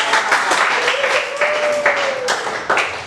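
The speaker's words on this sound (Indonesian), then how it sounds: "Tepuk tangan buat dia." A class applauding a student, a close burst of many hands clapping together in a steady wash, with a sustained voice or hum sounding briefly over it.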